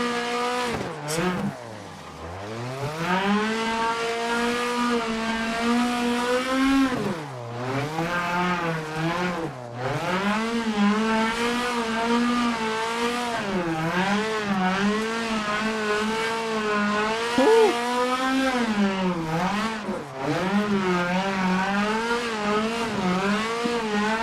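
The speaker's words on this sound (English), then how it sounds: "I can't believe I'm drifting in a Assetto Corsa this decent on my fourth day" A car drifting in the racing game Assetto Corsa with a drift car pack, engine revving and swooping up and down continuously, with brief lifts and re-accelerations and tire squeal, loud and steady throughout.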